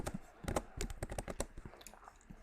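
Rapid keystrokes on a computer keyboard, a clustered run of close, crisp clicks with short pauses and no voices.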